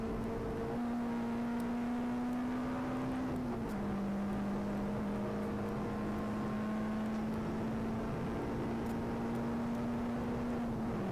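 A Peugeot 106 engine drones at a sustained high pitch under heavy throttle on the Goodwood Motor Circuit, dipping briefly and then holding steady, heard from inside the car.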